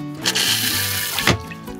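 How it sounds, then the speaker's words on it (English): Water rushes into the bowl of a Thetford Aqua Magic II RV toilet whose valve is stuck wide open, a close, steady splashing flow with a brief gurgling surge near the end. "the water starts running in the toilet bowl"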